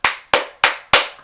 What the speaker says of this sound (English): clapping a little bit